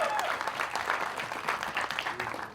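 Loud, sustained applause from the audience at the Border 2 teaser launch event, a dense wash of clapping that holds steady throughout with no voices over it.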